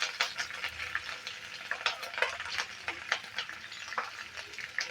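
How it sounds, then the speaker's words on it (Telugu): Mustard seeds, green chillies and onion fry in hot oil. A continuous crackling sizzle is broken by frequent sharp pops and spatters, with occasional stirring scrapes, heard up close at moderate level. "ఆవాలు గోలుతున్నాయి అయితే మిర్చి వేసుకున్నాము ఉల్లిగడ్డ కూడా వేసుకుంటున్నాం"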